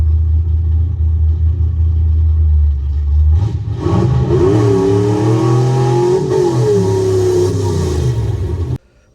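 A 1955 Chevrolet Bel Air engine idles low and steady, then roars as the throttle opens wide, revving high and strained for several seconds before cutting off abruptly.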